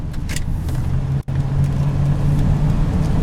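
A truck with a 460 engine driving on the road, a steady loud drone of engine and road noise from inside the cab that cuts out for a moment and then carries on.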